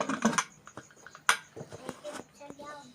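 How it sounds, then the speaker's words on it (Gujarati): A pressure cooker lid is set on and closed in a kitchen while pav bhaji cooks, giving a sharp metallic clink with smaller clatters and taps of metal cookware around it, close and fairly quiet. "હવે આપણે આ ઢાંકણું કુકરનું બંધ કરી દઈશું"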